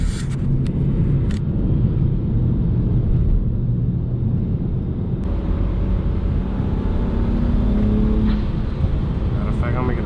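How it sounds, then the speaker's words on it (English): BMW 335i with the N54 turbo engine in a hard third-gear pull, a loud, sustained engine roar and rumble that holds steady for about ten seconds inside the car. "Matter of fact, I'm making a third gear pull."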